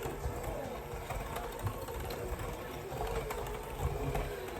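Electric mixer beating flour into buttery meltaway cookie dough, a steady mechanical whir with faint rhythmic knocking, quiet and continuous.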